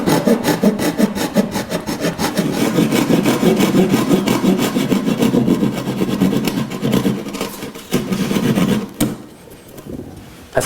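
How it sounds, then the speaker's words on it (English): A handsaw cuts through wood wainscoting trim in steady back-and-forth strokes, loud and close. The rasping rhythm holds for about nine seconds, then stops abruptly. "then I'm going to complete it with the handsaw"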